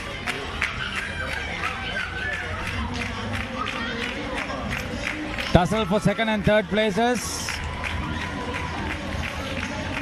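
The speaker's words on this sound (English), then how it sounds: "The girls are very excited. They're cheering." Girls cheer at a school annual sports meet during a relay race. Crowd shouting and chatter go on under a commentator's voice, with a louder burst of high-pitched cheering partway through.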